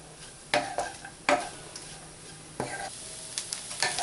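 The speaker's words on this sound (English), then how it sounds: "Give it a nice mix and cook it for 2 minutes more." A spoon scrapes and stirs sabudana khichdi with lemon juice in a gently sizzling pan, making a few distinct strokes over a soft, steady frying hiss.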